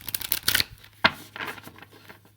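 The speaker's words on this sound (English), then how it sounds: "So let's get a couple of shuffles in here." Tarot cards are shuffled by hand in quick, crisp riffling bursts with brief pauses between them, close and clear with no talking.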